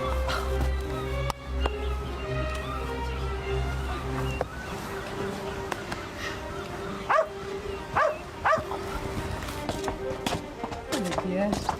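A dog barks a few times at middle distance, short sharp yaps spaced through a stretch of outdoor speech, with a low rumble fading out early on.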